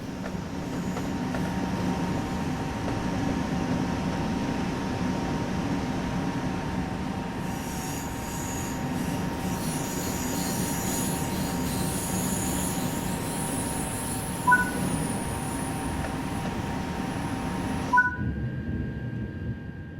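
TGV Duplex Series 200 high-speed train running on the LGV Méditerranée in Train Sim World, a steady rumbling rail roar with a faint tonal whine and brief squeals, heard from on board for twenty seconds.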